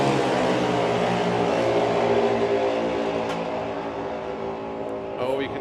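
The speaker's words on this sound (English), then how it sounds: "you can hear them feathering the throttles" Junior dragsters at a European drag racing finals being held on feathered throttles, with a loud, steady, buzzing engine drone of layered harmonics that eases slightly toward the end, under a commentator's voice.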